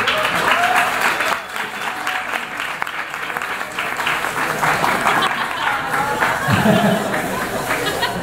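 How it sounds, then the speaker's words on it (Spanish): An audience at a Spanish-language talk applauds a speaker being introduced, sustained dense clapping with some chatter and a brief chuckle mixed in, fairly close and loud throughout. "Un aplauso, por favor"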